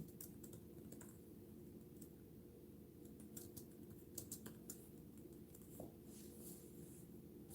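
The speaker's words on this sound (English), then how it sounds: "I'm typing" Rapid clicking of keystrokes on a computer keyboard during a late-night live stream, steady bursts of typing running throughout, quiet and close with a low background hum and no speech.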